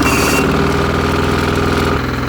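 An MEP 831A generator engine runs at a steady idle while warming up, a close, loud, even mechanical drone with rhythmic vibration and no voices.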